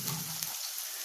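Chopped onion dropped into hot oil for a Bengali doi ilish fish curry, a brief bright sizzle hissing steadily and close, with no talking.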